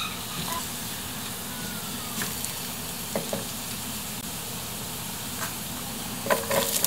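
Garlic browning and onion added to a hot pan for pork menudo give a steady, dense sizzle throughout, with a few faint clinks of a utensil stirring near the end.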